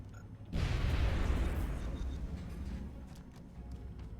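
A frag grenade explodes in the video game XCOM: Long War. The blast hits suddenly as a loud, deep boom with a broad burst, then rumbles and slowly decays over several seconds.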